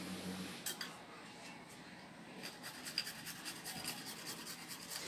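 Garlic grated by hand in a home kitchen, soft rasping scrapes in quick irregular strokes, faint and close.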